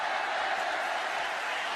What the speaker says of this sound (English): Fans trying to cheer the Undertaker,